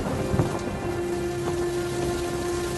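Heavy storm rain pours steadily in an animated story, a dense, even hiss that holds throughout, with a faint low rumble near the start.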